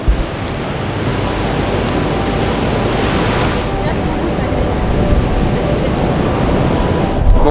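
Surf rolls steadily onto Kalalau beach, a continuous broadband wash of breaking waves with wind buffeting the microphone, loud and unbroken throughout.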